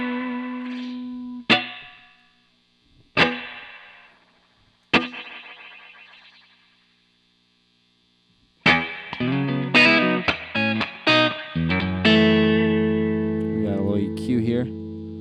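Guitar notes ring out through a springy, boingy mono spring reverb on an Eventide Space or Strymon Big Sky pedal, first as sparse plucks with splashy tails, then as a denser strummed passage.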